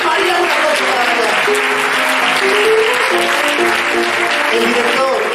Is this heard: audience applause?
yes